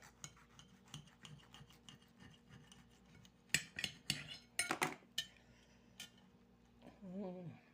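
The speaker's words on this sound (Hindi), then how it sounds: "अब मैं आप लोगों को कट करके दिखाती हूँ" A knife cuts through a crispy Kurkure burger with a crunchy coating, giving a run of scratchy crunching strokes that build to a few louder cracks, ending with a brief murmur of voice.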